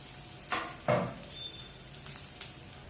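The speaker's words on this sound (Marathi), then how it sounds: "आता तेल छान गरम झाले त्यामध्ये आपण टाकून घ्यायचा आहे कांदा" Onion dropped into hot oil gives two sharp bursts of sizzle in quick succession, then settles into a softer, continuous frying crackle, close by and quiet.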